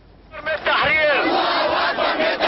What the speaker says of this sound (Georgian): ანტიამერიკული შეძახილები ისმოდა ქაიროში იმ სასტუმროსთან, სადაც ჰილარი კლინტონი დაბინავდა.